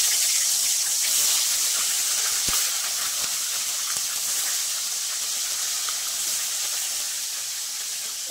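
River crabs sizzling in hot oil in a pan, a loud steady hiss with faint crackles that holds evenly throughout and eases off slightly toward the end.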